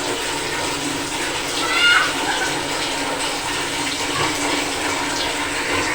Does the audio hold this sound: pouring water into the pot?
yes